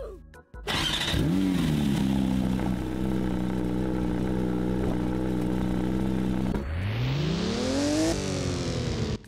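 A Porsche GT4 engine in the video game Driving Empire revs hard, holds a high steady drone, then drops and climbs again through another rising rev, loud and close with no talking.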